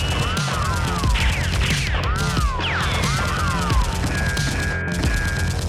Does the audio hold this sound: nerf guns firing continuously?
yes